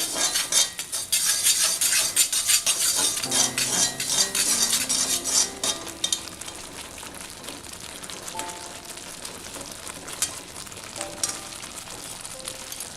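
A ladle stirs semolina for upma in a pan, starting with busy metallic scraping and clattering strokes up close that thin out into quieter, sparser scrapes, with no talking.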